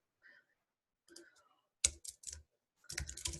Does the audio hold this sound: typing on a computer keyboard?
yes